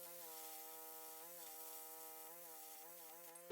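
A steady, harmonic whine of a Chicago Electric 20A plasma cutter cutting a 3/16-inch steel lawnmower blade runs continuously at close range, holding a mostly even pitch with slight wavers before stopping abruptly.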